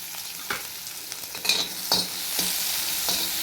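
A small chopped onion goes into a hot pan and is stirred, with a soft steady sizzle underneath and several scraping stirs at irregular intervals, close and without talking.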